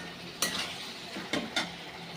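A spoon stirs chicken and potatoes in a pan, producing a few soft scraping clinks against a quiet steady sizzle. Three distinct strokes come within two seconds.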